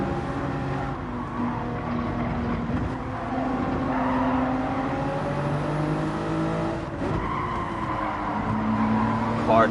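A racing car engine in Gran Turismo 7 drones and revs steadily, pitch rising and falling as it accelerates and brakes, with faint talk underneath.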